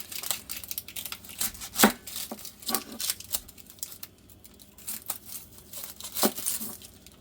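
Onions being diced with a knife on a cutting board, a loose, uneven patter of close, crisp chops and crunches that runs steadily throughout, with no talk.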